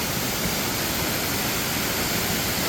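Ukkada Falls near a coffee-estate homestay in Chikmagalur pours with force, making a loud, constant broadband rush of falling water with no pauses and no voices.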